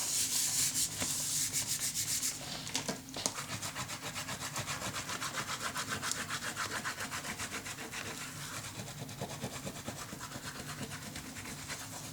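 Steady rubbing on a paper craft piece, a hand working adhesive or paper down against a surface in a continuous close scratchy rhythm, alone with no talk.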